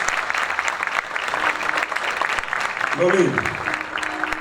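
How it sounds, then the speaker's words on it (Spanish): A conference audience at a Caribbean regional summit applauds Governor Verano de la Rosa with steady, dense clapping throughout, while a voice briefly speaks over it near the end. "Pido un fuerte aplauso para el gobernador Verano de la Rosa"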